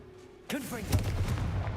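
Confringo blasting spell going off in Hogwarts Legacy: a sudden loud burst after a quiet lead-in, with a crackling blast and swirling tonal effects trailing behind it and a low rumble underneath.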